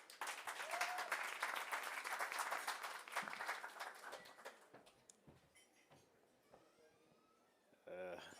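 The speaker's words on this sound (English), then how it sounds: "Round of applause, please." Applause from an audience welcoming the NBC Director General to the podium at a top-20 grand reveal event, a dense sustained clapping that fades after several seconds before a voice starts speaking.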